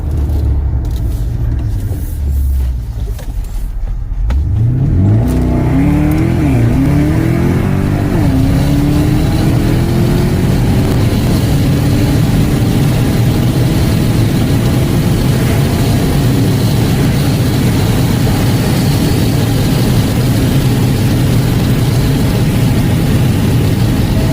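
A 650 HP Corvette C7 Z06 idles with a deep rumble, then launches on a quarter-mile street run, its engine roaring loudly through rising gear pulls and holding a sustained heavy drone.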